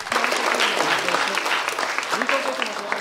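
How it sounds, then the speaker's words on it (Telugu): An audience at a children's special event at a school in Secunderabad claps loudly and continuously, a dense burst of applause that carries through the whole moment. "ఒక్కసారి థ్యాంక్ యూ చెప్పడానికన్నా సరే గట్టిగా చప్పట్లు కొట్టండి"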